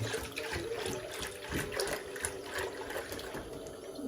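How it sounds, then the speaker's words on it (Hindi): Milk pours into a preheated pot for making khoya, a steady close liquid stream with faint splashing and gurgling that runs throughout. "इसके अंदर डाल देंगे दूध"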